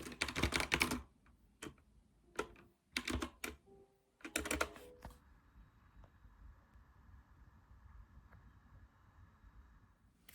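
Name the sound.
typing on a keyboard while writing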